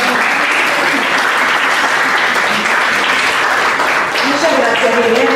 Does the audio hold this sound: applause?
yes